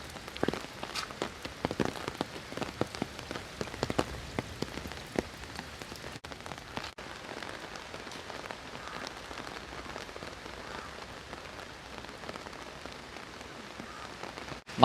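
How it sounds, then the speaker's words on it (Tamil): Heavy rain falls steadily at Thangassery, Kollam, on the Kerala coast, a dense, continuous patter of drops on surfaces with sharper close impacts early on, nearby and alone. "நல்ல மழை"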